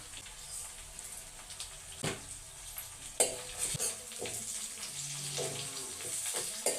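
Tomato rice cooking village style in a pan, with a quiet low sizzle broken by sporadic scraping stirs and clinks of a spoon against the pan, fairly close and fading in and out.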